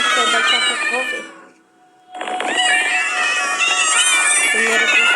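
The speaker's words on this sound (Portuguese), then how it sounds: "eu tenho muitos gatos aqui na porta" Several cats meowing at a door, loud and close, with long, insistent overlapping cries, a brief pause, then more meowing, while a person speaks nearby.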